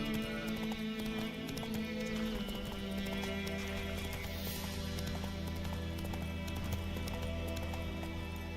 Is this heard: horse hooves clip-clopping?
yes